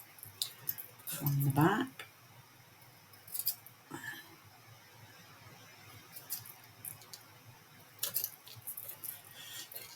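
Scissors trim craft material: one short, sharp burst of snipping comes early, then faint clicks and handling noises follow while someone talks quietly.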